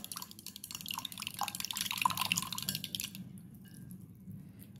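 Water with garlic pearls and mustard oil being stirred and mixed, a continuous close, bright clinking and dripping swish lasting about three seconds before fading into quiet.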